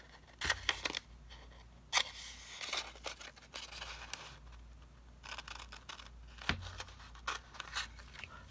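Scissors cut a name out of a piece of paper for a personal planner: a few sharp, quiet snips spaced apart, with soft paper rustling between them and no voices.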